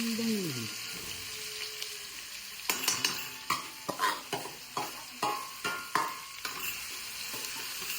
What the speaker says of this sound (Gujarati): ડુંગળી પેલા સાંતરી દઈએ આપણે. હિંગ નાખો થોડી.